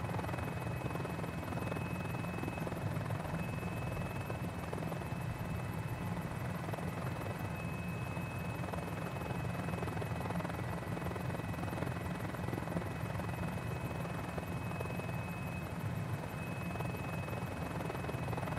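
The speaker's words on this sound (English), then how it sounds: "let's see how good I can fly a helicopter." A helicopter flies steadily in a video game flight simulator, its engine whine and rotor drone a continuous, even hum with a thin high tone running through it, with no talking.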